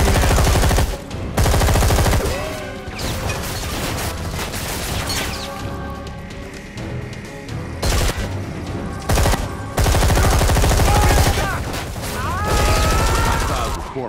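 Heavy gunfire in the Xbox 360 shooter Deep Black: long, loud stretches of sustained automatic fire and booming impacts close by, broken by short pauses and quieter mechanical passages.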